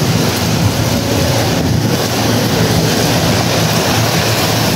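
Steady, dense roar of sudden heavy rain with strong storm wind gusts buffeting the microphone, continuous and loud throughout, no voices.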